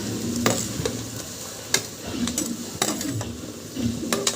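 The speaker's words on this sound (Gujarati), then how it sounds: "ચાલો હવે એની અંદર કાંદા એડ કરી રહી છું" Onions dropped into hot oil for a tempering, sizzling close up while a spoon scrapes and taps against the pan in irregular bursts, no talking.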